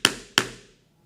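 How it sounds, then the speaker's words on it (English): A metal lacing chisel is stamped through leather for buckstitch lacing, giving two sharp, close taps about a third of a second apart, each ringing briefly before fading into silence. "I stamp deep enough to go through and no deeper"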